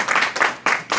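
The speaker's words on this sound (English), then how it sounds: "Give the Lord a clap." Church congregation clapping in bursts at a dedication service, broadband applause swelling and dipping in three or four waves over about a second, fairly close and loud.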